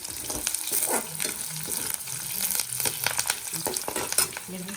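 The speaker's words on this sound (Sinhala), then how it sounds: "ඒ ටිකත් හොඳට බැදෙන්න කියන්න ඕනේ." Biryani ingredients fry in a pan while being stirred, with a loud continuous sizzle broken by scraping spoon strokes close by.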